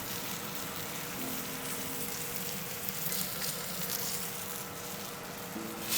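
A tomahawk ribeye steak sears on a hot griddle, giving off a steady, close fizzing sizzle with no pauses for the whole stretch.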